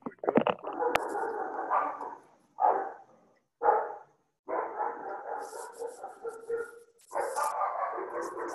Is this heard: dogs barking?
yes